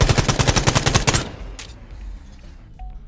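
A fast burst of about a dozen evenly spaced, loud gunshots in the shooter game Quantum League, cutting off after a second, followed by a couple of faint distant shots and quiet game ambience.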